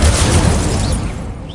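A loud, roaring burst of flame from the Incendio fire spell in Hogwarts Legacy, strongest at the start and fading slightly over a second and a half.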